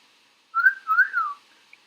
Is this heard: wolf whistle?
yes